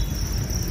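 Field crickets on a cricket farm chirp in a dense, steady high-pitched trill that fills the whole stretch without pause, close and fairly loud, with no voices.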